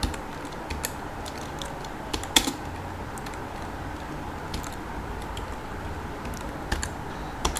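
Someone types on a computer keyboard, a steady patter of light key clicks with a few louder taps scattered through, close and alone without speech.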